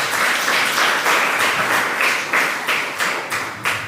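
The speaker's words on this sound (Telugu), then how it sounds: "లేదంటే ఒకసారి చప్పట్లు కొట్టండి" A church congregation at a Sunday Mass claps their hands together, a dense continuous burst of applause from many people, with rhythmic pulses and no talking.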